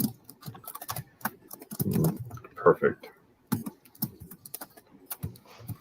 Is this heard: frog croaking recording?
no